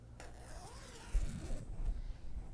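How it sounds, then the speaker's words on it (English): A soft, close zipper pull rasps briefly through quiet room tone, with light rubbing of fabric around it. "So I'll unzip it."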